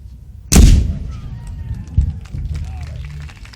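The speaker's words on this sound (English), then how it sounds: "Nice job to the cannon crew. All 5 went off without a hitch." One loud, booming ceremonial cannon shot at a Fourth of July event in Fairhaven cracks out and echoes away, followed by faint crowd noise and a smaller thump in the background.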